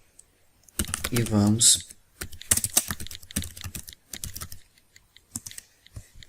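Fingers tap on a computer keyboard in quick bursts of close, crisp key clicks, ending with a Ctrl Enter press, while a voice speaks briefly alongside.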